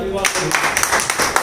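Audience at a mushaira breaking into applause, a dense burst of close clapping that runs steadily throughout the short moment.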